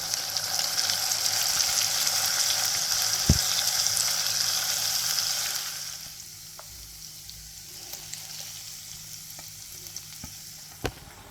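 Onion and chili paste frying in a pan for a street-style Tamil Nadu tomato gravy, a steady broadband sizzle for about six seconds that then drops to a quieter simmer, with a few sharp utensil clicks.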